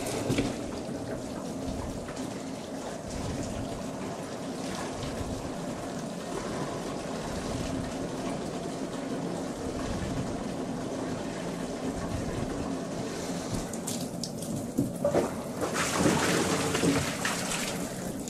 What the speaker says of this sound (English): Now I'm just going to do a rinse.